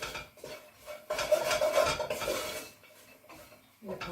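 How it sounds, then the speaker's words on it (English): Whole spices with cumin sizzling among softened onions in a cooking pot for a chicken and chickpea tagine, a steady close frying hiss with scraping stirs and faint clinks of utensil on metal. "that's my spices cooking in the pot"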